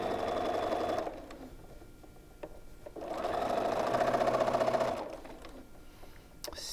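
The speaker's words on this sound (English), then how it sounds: "as the machine takes the first stitch and unthreads itself" A sewing machine stitches a seam on a Fifty-four Forty or Fight quilt block, running in two steady bursts of rapid whirring with a pause and a few clicks between them, close and clear with no talk.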